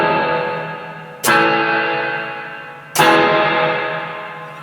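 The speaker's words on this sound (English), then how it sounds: "you can turn the mid and bass down and have a nice trebly reverb now" Two strummed guitar chords through a Peavey Valverb tube reverb processor, each ringing out with a bright, trebly reverb tail that slowly decays before the next strum.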